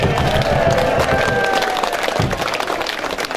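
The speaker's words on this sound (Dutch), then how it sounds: "Ik wil graag een applaus voor onze vrijwilligers." Sustained audience applause for volunteers at a rural music festival in Luttenberg, dense continuous clapping with some cheering, loud and steady before easing slightly toward the end.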